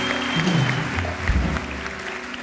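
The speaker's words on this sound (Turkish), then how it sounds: "Bütün takıma alkışlar da yerine alınıyor" Studio audience applause on a Turkish TV talk show, greeting a volleyball player and her team, a dense steady wash of clapping with low murmur and hum underneath, moderately loud throughout.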